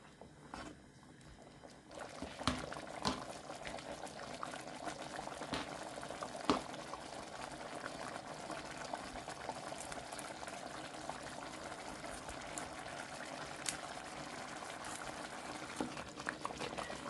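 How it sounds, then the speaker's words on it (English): Creamy Bahamian peas and grits boiling in a pot, a steady close bubbling with thick plops and pops running continuously after a brief quieter start. "the grits is starting to plop"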